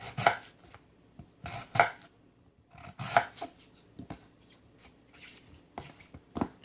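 A knife chops radish on a cutting board while it is prepared for dried pollock soup. A handful of separate, crisp chops are spaced a second or so apart, with quiet gaps between them.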